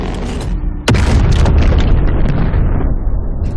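A ship's cannon in a video game fires one sudden loud boom, followed by a sustained rumbling roar and crackling debris that slowly fade.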